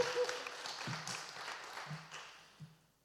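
Faint, diffuse applause from a seminar audience at an Urban Youth Network event, a soft wash of many hands heard from a distance that fades out toward the end.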